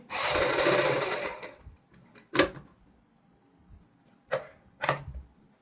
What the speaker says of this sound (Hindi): पूरे गले में हम इसी प्रकार सिलाई लगाएंगे